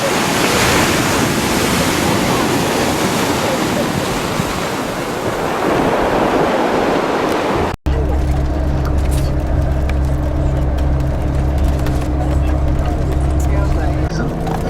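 Ocean waves roar and wash continuously against a rock and rubble shore, loud and close with strong wind buffeting; the sound then cuts to a quieter scene with a steady low hum.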